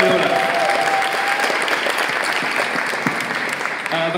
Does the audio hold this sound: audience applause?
yes